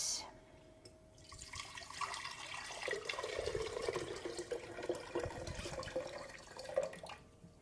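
Tomatoes swished and swirled around in a sink or bowl of water to wash them, giving a steady watery sloshing that is moderately loud and runs throughout, with no talking.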